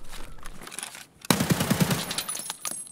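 A loud burst of rapid gunfire erupts after a brief quiet in Escape from Tarkov, continuous automatic shots rattling for over a second, followed by lingering game noise.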